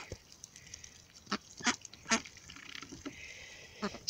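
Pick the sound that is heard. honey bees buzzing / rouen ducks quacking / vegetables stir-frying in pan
rouen ducks quacking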